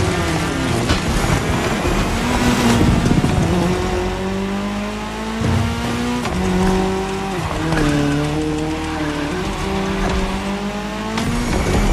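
Race cars in The Crew Motorfest's Red Bull Speed Clash cross-terrain race roar continuously, engines rising and falling in pitch through gear changes, with tires squealing and skidding through corners, loud and up close throughout.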